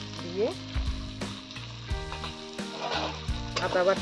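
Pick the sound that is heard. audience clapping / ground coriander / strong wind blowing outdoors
ground coriander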